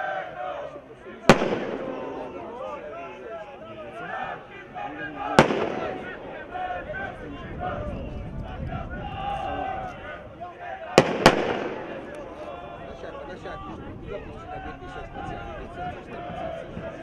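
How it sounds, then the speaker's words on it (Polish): Firecrackers set off by the crowd at a lower-league football match, about four sharp loud bangs, two in quick succession near the end, over a roaring stadium crowd with a voice speaking. "Stanowczo apelujemy o zaprzestanie używania petard hukowych."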